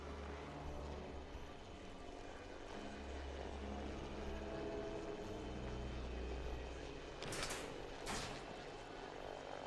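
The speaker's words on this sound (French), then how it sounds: "Ces soldats utilisent un drone automatisé." Automated drone hovering in Batman Arkham Knight, a steady propeller-like whir and low engine drone sustained throughout at moderate level, with a couple of brief bright bursts near the end.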